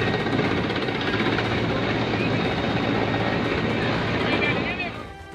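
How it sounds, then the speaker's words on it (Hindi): An Air Force rescue helicopter flies over flooded land, its loud, continuous rotor and engine roar steady throughout before easing slightly at the end, with a voice speaking beneath it. "एयरफोर्स का हेलीकॉप्टर लगातार लोगों को पानी के बीच से बचाकर सुरक्षित जगहों पर पहुंचा रहे"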